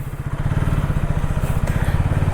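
A KTM Duke 160 motorcycle on the move gives off a steady, throbbing engine drone with a fast regular pulse. It is close and holds at an even level through the whole stretch.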